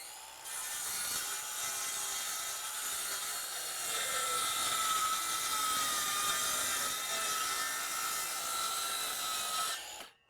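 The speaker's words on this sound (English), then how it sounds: "this saw made easy work out of cutting plywood" A saw cuts through plywood in one continuous pass, a steady, close, rasping whine that holds for about ten seconds before cutting off.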